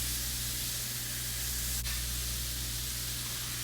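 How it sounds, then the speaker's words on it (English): A steady, loud sizzling hiss as liquid hits a hot pan of spiced meat with cumin, ginger and garlic paste, continuous and broadband without a break, close up, with no talking. "Deglaze with liquid of choice."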